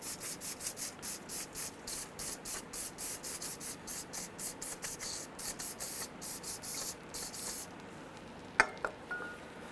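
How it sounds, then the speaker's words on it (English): Brake cleaner sprays in a rapid series of short hissing bursts onto a greasy Honda Element front strut and spring assembly, steady and close, then stops with a couple of clinks near the end. "We're going to hit it with some brake clean."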